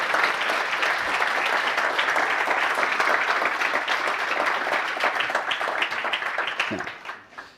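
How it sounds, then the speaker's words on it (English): A crowd at a general assembly applauds with dense, sustained clapping that holds steady for several seconds before tapering off at the end. "can I ask you a big shout out, big applause for Rihanna."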